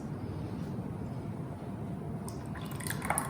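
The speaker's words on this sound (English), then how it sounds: "Now see, we have to pour it in these kullads." Steamed sweet curd mixture (bhapa doi) is poured into clay kullad cups, giving soft, faint liquid trickles and drips against a low background hum, with a few sharper splashes near the end.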